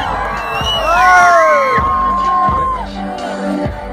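A crowd at a coffee festival in Monte Alverne, Miradouro, Minas Gerais, cheers loudly, with shrill whoops and high shouts rising over the noise and short bursts of claps.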